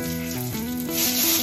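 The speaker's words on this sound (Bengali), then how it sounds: "এই তেলেই দিয়ে দেবো ফোড়ন" Whole spices and bay leaf tempering in hot oil for Bengali chicken kosha, giving a steady close sizzle and crackle that grows slightly louder toward the end, with no talking over it.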